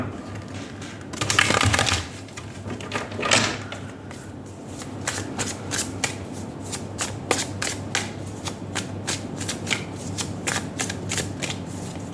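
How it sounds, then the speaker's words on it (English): Tarot cards are shuffled by hand, a riffling burst followed by a steady run of crisp, rapid flicks and snaps, close and fairly quiet against a soft room hum. "we will shuffle the tarot first"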